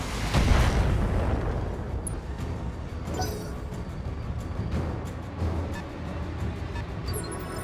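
Weapons fire from mechs in the RogueTech BattleTech video game: heavy booming blasts and rumbling impacts roll continuously, a loud thud opening the burst followed by repeated crackling shots and explosions.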